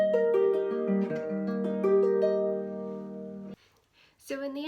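A 36-string harp plays a short, clear passage of plucked, ringing notes for a few seconds, then falls quiet before a voice starts speaking.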